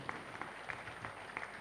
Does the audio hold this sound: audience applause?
yes